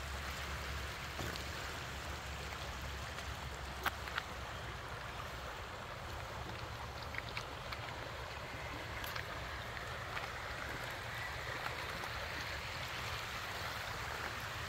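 A river flows in a remote forest area, a faint, steady wash of running water with no voices, carrying on evenly throughout.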